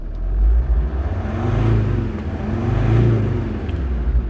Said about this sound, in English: oh, it's got all that delicious 5-cylinder warbliness going on